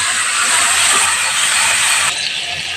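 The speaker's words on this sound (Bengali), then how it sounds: "কালো জিরাগুলো একটু ফুটে উঠুক" Nigella seeds sizzling in hot oil for tempering a fish curry, a loud, close, steady frying hiss that drops slightly in intensity near the end.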